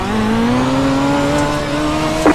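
Midget race car engines in the iRacing game, a loud droning pack of engines rising steadily in pitch as they accelerate at the green flag, with a brief squeal at the end.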